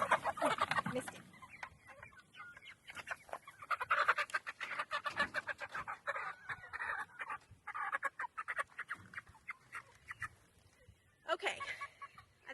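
Meat chickens clucking and chattering in a backyard coop, a run of irregular, fairly close clucks and squawks with brief pauses, faint overall, with soft human voices and laughter now and then.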